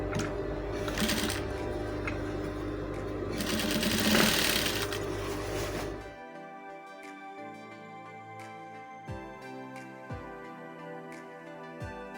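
A sewing machine runs steadily as it stitches a dashiki seam with a half-inch allowance, then slows into a few short bursts and separate stitches near the end.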